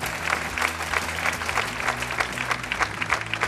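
Steady, dense applause from a room of diners at a Villarreal football club celebration lunch, marking five years in European competition; many hands clap together, close and continuous, with no voices standing out.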